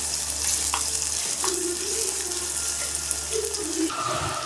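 Whole garlic cloves and onions fry in hot oil for kara kulambu, giving a steady, close sizzle with a few soft stirring touches and no talking.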